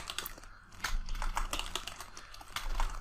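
Rapid clicking of a computer keyboard as code is typed, steady close keystrokes over faint room hum, with no voice heard.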